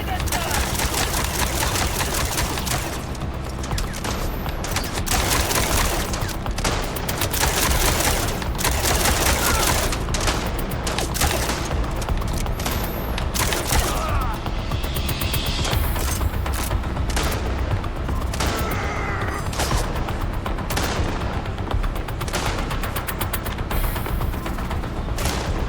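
Dense, continuous gunfire rattles on, loud and close, with rapid overlapping shots and bursts filling the whole stretch, and a voice occasionally heard beneath.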